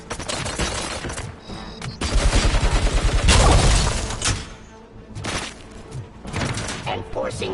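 Enemy gunfire in the video game RoboCop: Rogue City, loud sustained bursts of rapid shots with impacts and mechanical clatter, broken by short lulls and mixed with a voice speaking.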